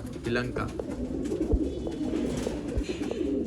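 Pigeons cooing at a pigeon seller's shop in Bangalore, soft repeated low coos amid a busy, crowded background of many birds, with people talking nearby.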